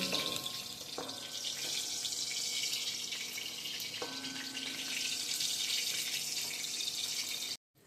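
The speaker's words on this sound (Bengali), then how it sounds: "এবার আমি অপর পিঠটা ভেজে নিচ্ছি বেশি কড়া করে ভাজবেন না" Pieces of katla fish frying in oil in a pan at home, heard as a steady, continuous sizzle that runs loud and even throughout, with a brief clatter partway in and a sudden stop at the end.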